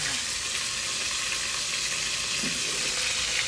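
Onions sizzling in a hot pan, a steady, dense frying hiss that holds evenly throughout at moderate loudness, with no talk over it.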